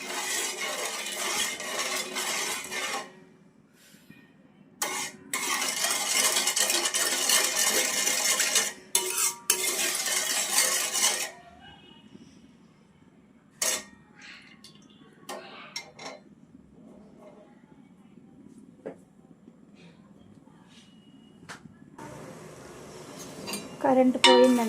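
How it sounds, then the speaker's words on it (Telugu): Sugar syrup being stirred in a pan for cashew burfi (kaju katli), with repeated scraping and clinking of a utensil against the pan in loud bursts separated by quieter gaps. "ఇలా మొత్తం షుగర్ మొత్తం కరిగేంత వరకు జస్ట్ ఇలా కలుపుతూ ఉండండి"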